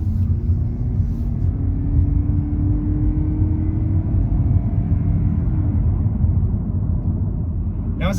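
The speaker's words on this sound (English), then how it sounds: "I'm going to have a chance to show you what the acceleration is like from a stop." A 2022 Lexus UX 250h hybrid accelerating from a stop, heard from inside as a low steady hum and road rumble with a faint rising whine, no talking.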